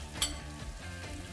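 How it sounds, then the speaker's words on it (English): Bacon sizzling in a frying pan, a short burst of crackling fry noise with a brief sharp clink near the start, steady and close throughout. "Once that bacon starts to get really nice and crispy, lay it nice and flat in the pan"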